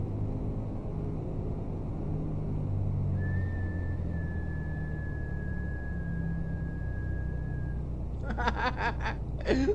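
In the iRacing video game, a sustained high squeal of braking race car tires holds steady for several seconds over a constant engine rumble, followed by quick bursts of clatter.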